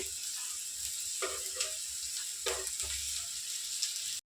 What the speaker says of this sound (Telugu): మనం డీప్ ఫ్రై చేసుకోకుండానే కొంచెం నూనె వేసుకొని ఇట్లా ఫ్రై చేసుకోవచ్చు